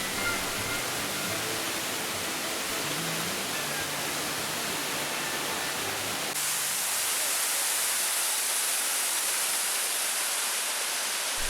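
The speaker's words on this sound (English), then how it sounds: "the second highest waterfall in Trinidad" Waterfall in Trinidad, water tumbling down a hillside, a dense, constant roar of rushing water that stays loud and even throughout, with a slight change in tone partway through.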